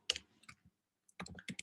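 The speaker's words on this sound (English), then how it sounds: "So you're typing" Keyboard typing in a lecture setting: a short burst of clicking keystrokes, a pause, then a second burst of several quick taps, fairly close and moderately quiet, with no talking.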